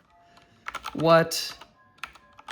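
Fast keystrokes clatter on a nearby computer keyboard in quick bursts. A voice briefly speaks over the typing.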